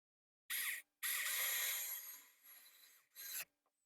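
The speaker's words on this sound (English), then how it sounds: "now we can put the two screws and tighten them." Screws are driven into a replacement sun visor on a Chevy Sonic, heard as several short, close ratcheting and scraping bursts separated by quiet pauses, with no talking.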